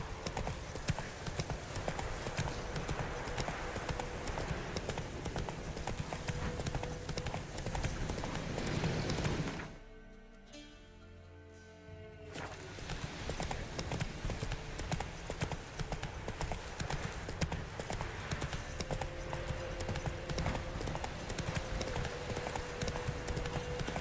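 Roach, a horse in The Witcher 3, gallops with a steady, rapid clip-clop of hooves. The hoofbeats pause briefly midway, then resume at the same pace.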